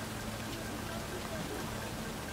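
Steady, dense rain falling in the game Cyberpunk 2077, an even hiss of drops on surfaces that holds constant throughout at moderate loudness with no pauses.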